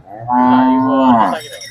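A Hallikar bull, a draught ox used for ploughing, gives one sustained low moo, close and loud, holding for about a second before tapering off.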